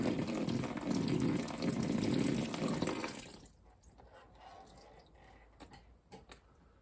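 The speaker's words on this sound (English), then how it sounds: "the water is now leaving the trap." Water from a basin gushes loudly down through a sink U-bend trap into a bucket for about three seconds, then tapers off to faint trickles and scattered drips.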